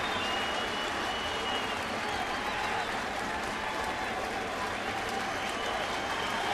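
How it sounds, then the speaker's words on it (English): Stadium crowd at a Cardinals–Mets baseball game, St. Louis, cheering and clapping to urge on pitcher Fernando Salas in the ninth inning; a steady, dense roar of applause and shouts throughout, loud and sustained. "Crowd urging Fernando Salas on here in the 9th inning."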